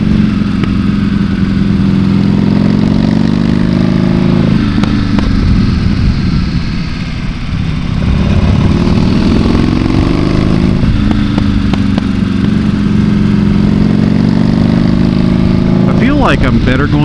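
A Buell motorcycle engine roars steadily on a warm-up lap of the Tail of the Dragon road, loud and close, its revs rising and falling through the bends over a constant rumble.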